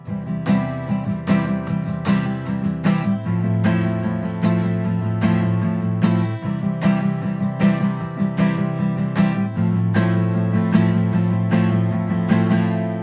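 A guitar strums a fast, steady sixteenth-note rhythm with a pick, with accented strokes on a loop of chords, close and without voices.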